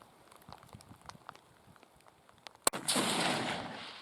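A single sharp rifle crack from a DRT .308 round fired at a goat 400 yards away, followed by a sustained broad rumbling echo rolling across open hunting country.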